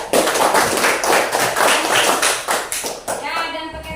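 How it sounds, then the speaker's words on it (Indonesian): A classroom of students claps together at the teacher's prompt, a loud, fast burst of hand claps lasting a few seconds that fades at the end. "Tepuk tangan."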